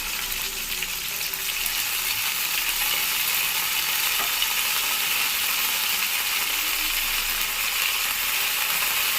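Coriander leaves frying with green chillies in a pan for tomato coriander chutney give a steady, close, loud sizzle that stays even throughout, with no voices.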